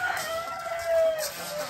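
A rooster crows amid background clucking from chickens, a farmyard scene with steady ambient noise.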